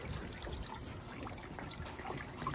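Water trickles and splashes steadily from the pump of a homemade hydroponic vegetable garden, a close, even, fairly quiet flow with no voices.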